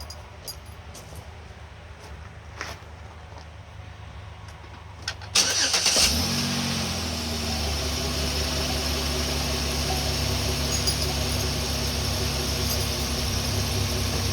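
A 2008 Pontiac Torrent engine cranks and catches, then settles into a steady, loud running rumble that continues to the end after a quieter start.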